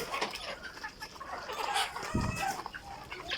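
Several Egyptian Fayoumi chickens cluck and murmur close by while eating, in a busy, overlapping chorus, with a few louder squawks mixed in.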